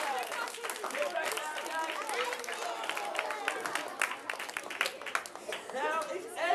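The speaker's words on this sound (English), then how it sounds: "Big round of applause" An audience claps, a fairly steady burst of applause with some cheering and babble of voices layered over it, moderately distant in a room.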